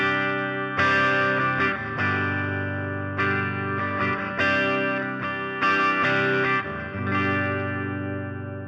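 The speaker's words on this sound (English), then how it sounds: "The 64 Black is a 1964 Fender Vibreverb combo." Electric guitar through a model of a 1964 Fender Vibroverb combo tube amp, distorted chords ringing out in several sustained strums with chorus-like shimmer, played alone with no talking.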